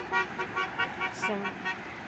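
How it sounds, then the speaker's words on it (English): A car horn honks in a short series of repeated toots, moderately loud against street ambience. "Someone honking at us"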